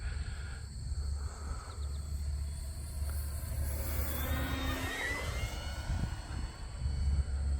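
An E-flite Focke-Wulf Fw 190A 1.5 m electric RC warbird flies at just under three-quarter throttle, its motor whine rising and falling as it passes overhead against a low outdoor rumble.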